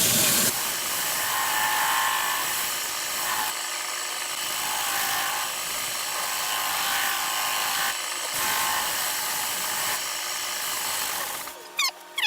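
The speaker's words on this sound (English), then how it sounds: "I'll blow out all the excess out of these holes." Compressed air blasts out the excess from holes in a turned wooden bowl, a loud continuous hiss held in several long bursts with brief pauses, close to the listener and with no talk.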